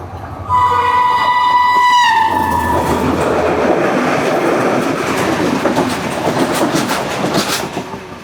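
A train sounds its horn in one long blast as it begins passing through a station on Sri Lanka's Indian Ocean coast near Colombo, followed by a loud continuous rumble and clatter of cars going by.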